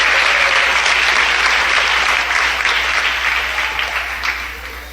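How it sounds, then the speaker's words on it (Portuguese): A church congregation claps hands loudly and steadily in praise during a service, a dense continuous applause that gradually fades toward the end. "Pode louvar a Deus com as palmas bem forte."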